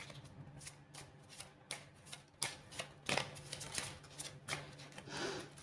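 Playing cards being shuffled and cut by hand, a series of soft riffling bursts and crisp snaps at irregular intervals, close and quiet.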